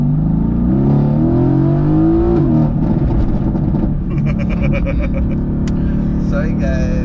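A 2016 Mercedes-AMG GT S engine revs loudly up and down from close by, a deep rumbling roar that rises and falls, with people talking over it.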